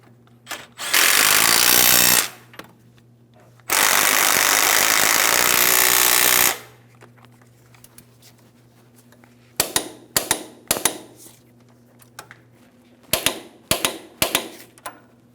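A power tool drives the caliper bracket mounting bolts on the front brake of a 2007-2014 GMC Sierra 2500 HD pickup: two loud, sustained bursts close by, then scattered sharp clicks and clanks, with no talking.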